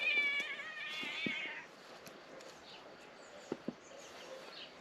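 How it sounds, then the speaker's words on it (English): A farm cat lets out a long, drawn-out meow up close, followed by quieter rustling and a couple of sharp taps or clicks in a calm setting. "He's the farm cat here."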